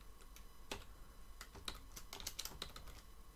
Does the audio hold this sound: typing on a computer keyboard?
yes